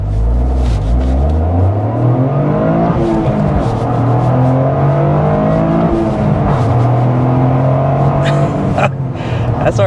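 A 2024 Toyota GR Corolla Core engine revs loudly and continuously, rising and falling in pitch as downshifts are rev-matched, with the sound close and dominant throughout.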